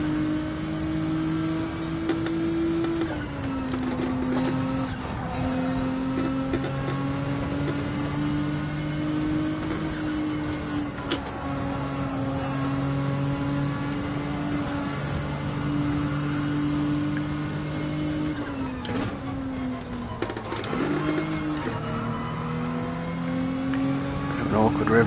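A race car engine in Gran Turismo 7 droning steadily at high revs, with pitch dips and climbs through gear changes and corners over a long stretch, loud and continuous, with someone talking now and then.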